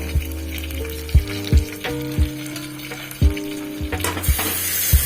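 Praveen masala and salt sautéed in a pan, a close steady sizzle broken by repeated sharp scrapes and knocks of a spoon stirring against the metal, with a brighter burst of hissing near the end.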